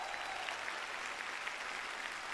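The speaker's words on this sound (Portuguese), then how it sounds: "Lilás, uma salva de palmas, senhoras e senhores." A television studio audience applauds at a variety show tribute to Djavan, a quiet, even patter of many hands sounding somewhat distant and steady throughout.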